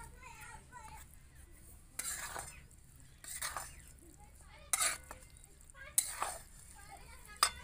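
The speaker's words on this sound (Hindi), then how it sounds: "इसके हम चला लेते हैं।" A spoon stirs Maggi masala noodles with chopped green coriander leaves in a pan, giving a few short scraping and clinking strokes in separate bursts over a quiet background, with a person speaking between them.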